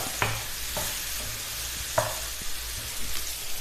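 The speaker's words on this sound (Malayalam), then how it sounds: "പഴം നെയ്യിലിട്ട് മൂന്ന് മിനിറ്റ് നേരം മീഡിയം ഫ്ലെയിമിൽ ഫ്രൈ ചെയ്തെടുക്കാം" Chopped banana frying in ghee over a medium flame, a steady close sizzle punctuated by a few sharp spatula taps and stirring scrapes against the pan.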